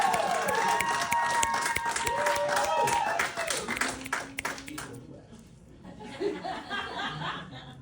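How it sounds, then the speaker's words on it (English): A comedy club audience claps and laughs loudly as a comedian walks up to the mic, with a dense burst of applause that fades out over a few seconds. Chuckles follow, and voices talk over the tail. "Keep clapping till Kneeco gets to the mic"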